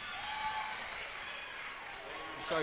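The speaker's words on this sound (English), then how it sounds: "You can hear the crowd and cheerleaders and everybody more in tune with the game now" Crowd noise and cheerleaders cheering at a women's college basketball game, a steady broad roar of voices filling the gym throughout, swelling slightly at the end.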